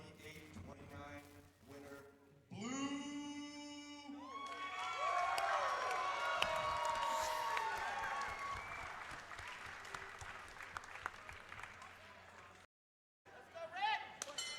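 A crowd at a kickboxing fight event cheers and applauds, building to a loud roar in the middle, while a commentator talks over it before and after, with a brief dropout near the end.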